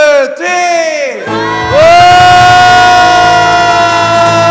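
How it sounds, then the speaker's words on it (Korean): A church congregation at a Korean youth prayer meeting shouts "wah" together in one loud, sustained roar. It swells after a brief rising build and holds steady at full volume to the end. "제가 1, 2, 3 하면은 다 같이 와 하고 함성을 지르면 되는 겁니다"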